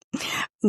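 A single short sneeze bursts out during a casual book podcast conversation, followed quickly by a voice starting to speak.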